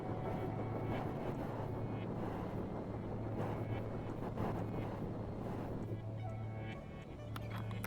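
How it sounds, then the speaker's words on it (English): Wind roars on Venus in the video game Stationeers, a steady, dense rushing noise that fills the whole stretch with a low hum beneath it and no talk. "Whoa, it is windy."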